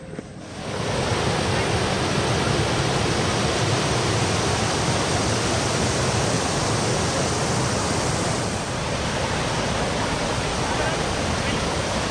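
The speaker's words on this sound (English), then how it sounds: "Water is filled to the brim. It's overflowing" A steady, loud rush of water overflowing from a brim-full basin, continuous and dense throughout.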